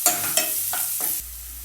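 Capsicum, pepper and vegetables sizzle in a frying pan while a spoon stirs them, several quick scraping strokes over a steady hiss, close and alone.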